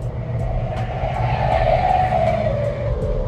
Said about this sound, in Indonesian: Pas tuh samping kita ada truk lewat.